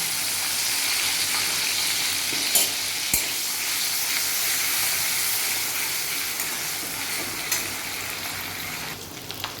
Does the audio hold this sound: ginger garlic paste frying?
yes